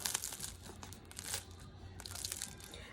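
A freshly baked homemade French baguette crackles as its crisp crust is squeezed and crushed up close, a dense crinkly crunching that lasts the whole moment with no talk.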